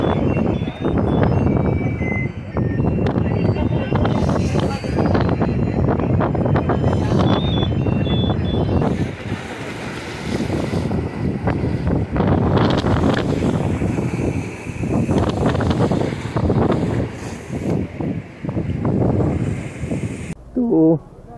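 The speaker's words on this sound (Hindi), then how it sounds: "यहाँ पे बहुत ही तेज हवा चल रहा है" Strong seaside wind at Dhanushkodi buffets the microphone in loud, rumbling gusts that surge and ease over the whole stretch, with someone speaking beneath the roar.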